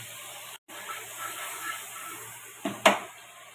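Butter hitting a hot pan while making crispy bread gives a steady, fairly quiet sizzling hiss, briefly cut off near the start and then rising into a sharper burst of spitting near the end; no one speaks.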